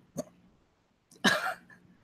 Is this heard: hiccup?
yes